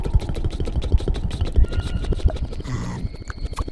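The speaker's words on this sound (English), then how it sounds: "Helicopter." Cartoon helicopter in the Sago Mini kids' plane game, a rapid thumping rotor chop under a rattling motor drone, loud and close, with a brief whooshing burst near the end.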